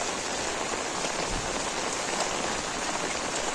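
Steady rain pours down at a flooded railway station, a dense even hiss of drops hitting surfaces, constant and fairly close with no voices.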